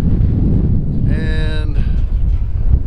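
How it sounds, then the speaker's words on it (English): Gusty wind rumbles across the microphone on a hike at Mare Island, with a brief tonal whine in the middle and faint voice-like sounds underneath. "It's kind of windy."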